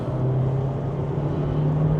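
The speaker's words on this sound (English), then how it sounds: "2000 revs, third gear, foot down." A VW Golf MK8 with a turbocharged engine accelerates hard in third gear from about 2000 rpm, a steady droning engine hum with road noise, heard from inside the car in the rain.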